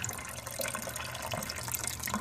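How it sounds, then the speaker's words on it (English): Water running steadily into earthen grow beds fed by an air pump system, a continuous splashing trickle outdoors at dusk, moderately quiet with no voices. "there's the water going in"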